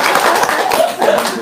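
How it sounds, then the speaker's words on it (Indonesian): A short burst of audience clapping, a quick scattered patter of hands with a faint chuckle mixed in. "Tepuk tangan dong."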